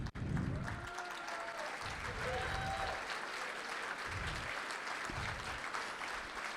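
Applause from the audience at a political Senate forum, a broad crowd clapping that runs continuously beneath a voice talking in low bursts, fairly quiet overall.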